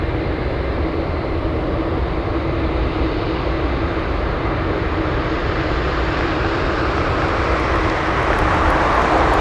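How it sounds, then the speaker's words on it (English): An Alaska Airlines Boeing 737-700 takes off from Anchorage airport runway in fog, a loud steady engine roar that holds unbroken throughout, with no talk. "We have a takeoff as we try and battle this fog."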